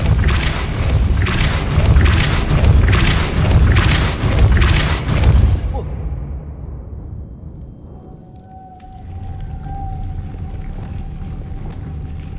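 Depulso spell cast in the video game Hogwarts Legacy: a loud, deep booming blast with repeated heavy pulses for several seconds, then a sudden cut to a low rumble and faint tonal hum.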